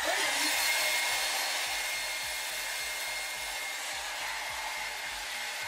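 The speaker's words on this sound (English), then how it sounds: "All done with the blow drying." Hair dryer blowing on damp hair during an everyday styling routine, a steady close-up whoosh that runs continuously under faint rhythmic background music.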